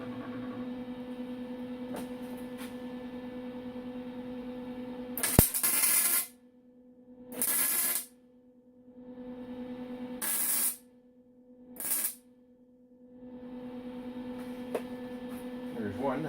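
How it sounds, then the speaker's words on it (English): Four short bursts of welding on a shrinker stretcher, each crackling for about a second, with steady machine hum and hiss continuing between them. "Maybe I can get a couple of welds in from the inside there."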